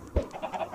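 Chickens clucking in the video game Minecraft, a few short soft clucks in quick succession, faint and alone.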